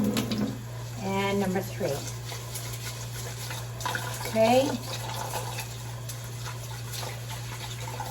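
Tap water runs steadily while rice is rinsed in a pot, with a fuller splashing burst near the start and another midway, heard under intermittent talk.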